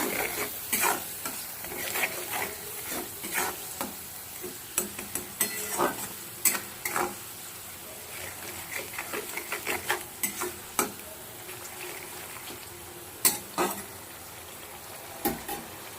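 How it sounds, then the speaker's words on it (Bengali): Fish pieces with cumin, chili, a spoonful of turmeric and salt being stir-fried in a pan for doi katla, with steady sizzling and repeated clinks and scrapes of a spatula against the pan, close up and with no talking. "ভালো করে এবার কষিয়ে নেব"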